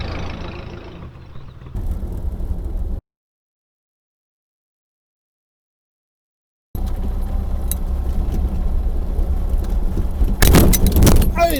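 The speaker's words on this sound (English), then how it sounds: "I decided it would be a good idea to use a field to turn the car around." A car with a freshly rebuilt engine drives and turns around in a field, giving a rough low engine and bumping rumble, then a gap of silence before louder rumbling and rattling resume.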